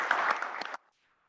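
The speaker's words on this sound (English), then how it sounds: "Big round of applause for Joseph." Short burst of audience applause for a startup founder at a founder showcase, dense clapping that stops abruptly and leaves near silence.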